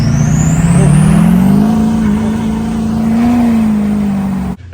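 A Duramax diesel truck fitted with a 9-blade turbo, 45-over injectors and a Sportsman pump roars loud and close, its engine drone rising and holding steady under a high turbo whistle before cutting off abruptly.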